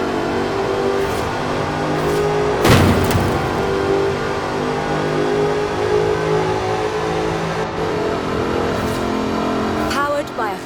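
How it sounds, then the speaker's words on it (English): Supercharged 5-litre V8 of an aluminium-bodied Jaguar sports car in the Forza Horizon video game, a loud continuous engine roar that rises and holds in revs, with someone narrating over it throughout. "Powered by a 5-litre V8 supercharged engine, with a fully aluminium body, it's blisteringly fast"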